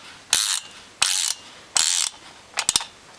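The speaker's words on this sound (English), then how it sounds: "There's a little ratchet spinner, it's bloody beautiful. Reversible." A reversible ratchet spinner works on a tractor battery's hold-down clamp, giving three steady buzzing ratchet runs followed by a few quick short clicks, close and clear with no talking.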